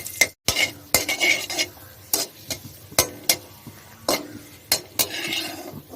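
Cashews and raisins roast in a pan with a low sizzle. A spoon scrapes and clacks against the metal in sharp, irregular strokes close by, with no speech.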